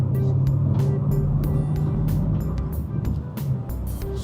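A 2026 Kia Sportage Turbo Hybrid accelerating hard uphill, heard from inside as a steady, loud engine and road drone with a low hum throughout and some rustling on top.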